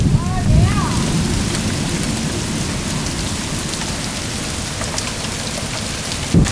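Heavy rain and hail pour down steadily during a June 2009 storm in Macomb County, a dense, continuous hiss with a few sharper impacts near the start and end.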